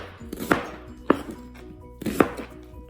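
A knife chops an onion into cubes on a cutting board, with three or four solid, close thunks spaced unevenly over a faint background hum.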